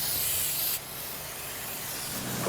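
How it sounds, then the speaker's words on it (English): An aerosol spray-paint can hisses briefly as it marks cabling, one short burst followed by a quieter tail of faint hiss. "I'll go ahead and spray this."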